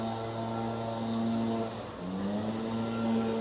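Porsche GT3 cruising in a convoy of supercars heading to a car meet, a steady droning engine hum that dips briefly and then climbs again, with no talking.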